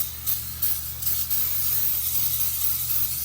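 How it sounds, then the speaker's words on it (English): Brake cleaner sprays in short hissing pulses onto the clutches of a Polaris RZR over a steady low mechanical hum, fairly close, with a continuous aerosol hiss through most of the clip. "now we're just gonna spray the clutches down with some brake cleaner"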